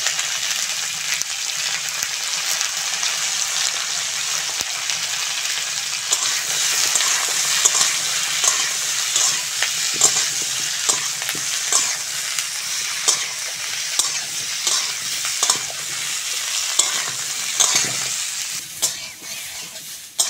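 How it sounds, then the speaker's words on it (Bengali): Winter vegetables for khichuri sizzle steadily in a pan with turmeric, punctuated by frequent scraping stir strokes of a spatula; continuous close frying with no talk. "সবজিগুলো ভালো করে ভেজে নিয়েছি"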